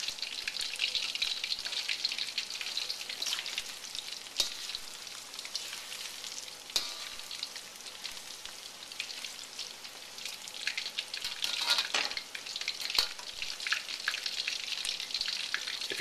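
Pork pieces deep-fry in oil at 350 degrees, giving a steady, dense sizzle with crackling pops running through it. The sound is fairly close and stays even throughout, with no talking.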